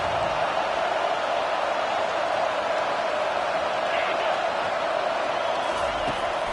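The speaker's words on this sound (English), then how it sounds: "here comes the noise. This crowd is trying to inspire this defense to make a big red zone stop." A stadium crowd roars during a Stanford versus Notre Dame college football game as the defense faces a red zone stand. The noise is a constant, loud wash with no breaks.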